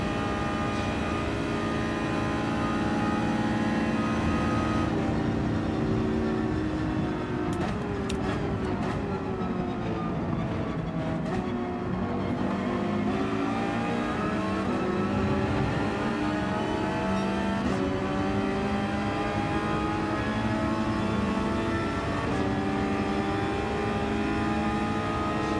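Porsche GT3 race car engine in Gran Turismo 7 lobby racing, a steady loud drone with rising and falling pitch through shifts, running continuously with no voices.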